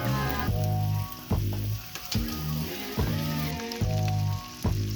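Sausage rings sear in a hot pan, a loud steady sizzle running throughout, with a rhythmic tonal pulse, likely music, playing over it.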